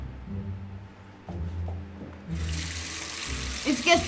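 A tap runs water into a sink, a steady hiss starting a little past midway and continuing to the end, with low talking beneath it throughout and a few brief knocks near the close.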